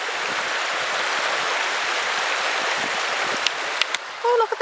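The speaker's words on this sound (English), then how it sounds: "Only because I want to hear the river." A river flows nearby along a walking path, giving a steady broadband rush of water. A few brief knocks and a voice-like sound interrupt near the end.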